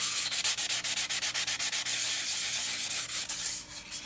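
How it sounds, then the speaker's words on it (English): A 600 grit wet and dry sandpaper rubbed over a steel axe head, rhythmic back-and-forth rasping strokes in a quick even series, close and clear, pausing briefly before resuming. "What I'm using here is a 600 grit wet and dry sandpaper"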